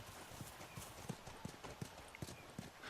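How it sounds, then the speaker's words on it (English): A horse walks with steady clip-clop hoofbeats in the video game The Last of Us, an even, evenly spaced rhythm of soft, fairly quiet footfalls. "Yes, bring the horse."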